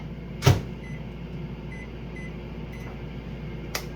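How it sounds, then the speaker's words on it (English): Microwave oven humming steadily while heating a peach cobbler, with a sharp click or door thud near the start, faint intermittent beeps and a brief knock at the end. "Microwave. When it comes out,"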